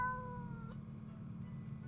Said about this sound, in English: Cat answers with a meow of uncertainty.